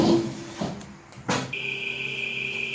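An overlock sewing machine finishes a seam on a vest, short mechanical whirring bursts and clacks followed by a steady high motor whine, close and moderately loud, with no talking.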